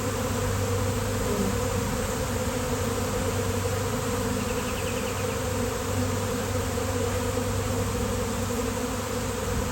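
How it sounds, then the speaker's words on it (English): A giant swarm of bees buzzes loudly and steadily throughout, a dense, unbroken drone close by with no voices. "Does anybody know what kind of bees these are?"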